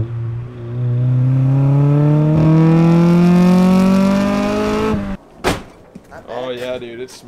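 A Honda Integra revving hard, its engine note climbing steadily for several seconds, loud and close, then cutting off, followed by a sharp clunk and brief mechanical sounds.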